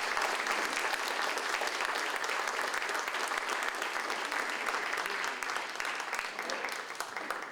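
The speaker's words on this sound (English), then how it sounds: "Let's have a round of applause for that." Steady, dense applause from an audience at a Rotary club event with speakers discussing the JFK assassination, continuous and even throughout before tapering slightly at the end, with no talking over it.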